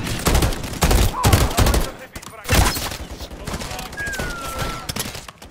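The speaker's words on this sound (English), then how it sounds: "I think sometimes my own guys are shooting me." Dense automatic gunfire from a Call of Duty MW3 campaign battle, rapid bursts of loud shots in clusters with brief lulls between volleys, fairly close and punchy.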